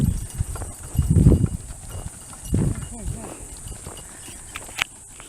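Donkeys taken out for firewood walk on a track near a gate, their hooves clip-clopping in a few uneven bursts close by, with people talking over the steps.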